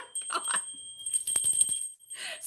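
Small jingling bells shake in a few short bright bursts, close by, with pauses between the jingles and no clear talking.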